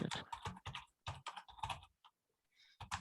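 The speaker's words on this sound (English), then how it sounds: "I'm trying to keep up with note typing at the same time" Fast, close typing on a computer keyboard clatters in dense bursts of keystrokes, pausing briefly before a few more clicks.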